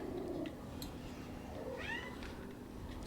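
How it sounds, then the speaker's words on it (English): Kittens meow faintly in the distance, a couple of thin rising cries, over a constant room hum and background noise. "That's the kittens meowing."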